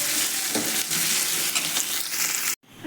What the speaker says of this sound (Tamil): இப்போ கொஞ்சம் கொத்தமல்லியும் கொஞ்சம் கருவேப்பிலையும் போட்டு நல்லா வதக்கணும்.